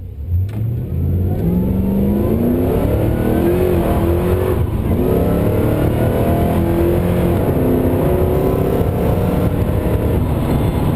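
A supercharged LS1 V8 in a VZ automatic ute pulls hard through the gears, its engine note climbing steadily and loudly, then dropping and rising again with each shift, close and continuous with no talk.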